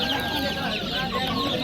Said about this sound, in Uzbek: Ikkalasi ham horoz ekan mana